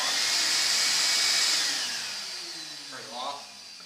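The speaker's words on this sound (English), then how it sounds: "This connects over to my vacuum here" A shop vacuum hooked to a FastCap RCV remote adapter whirs loudly, then winds down and drops in level; a short click and a brief muffled sound follow near the end.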